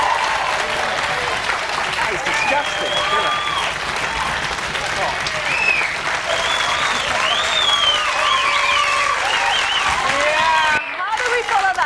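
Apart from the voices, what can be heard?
studio audience applause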